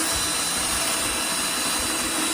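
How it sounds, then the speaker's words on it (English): A power drill bores a 7/32 hole into very hard wood held in a V-block, a loud, steady, continuous whine and grind with no talking. "I am going to drill a 7/32 hole."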